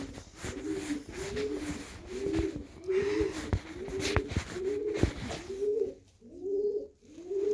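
Several pigeons cooing close by, repeated rolling coos in a steady rhythm, with a few soft knocks and rustles between calls and no talk.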